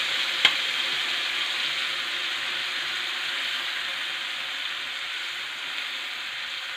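Spiced yogurt mixture for white karahi cooking in a karahi, an even continuous hiss and sizzle with one sharp clack near the start.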